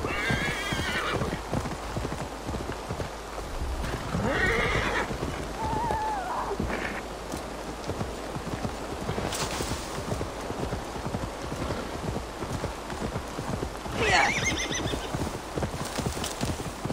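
A horse in Assassin's Creed Valhalla clip-clops along at a steady gait, its hooves thudding rhythmically while it neighs and whinnies a few times, with faint rain-like ambience behind.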